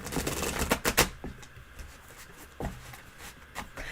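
Tarot cards shuffled during a tarot reading, a run of quick papery riffles and taps close by, denser at first and then sparser with a few sharp snaps.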